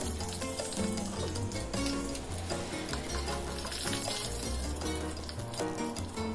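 Mustard seeds and urad dal frying in hot oil in a pan, a steady close crackle and sizzle with faint stirring.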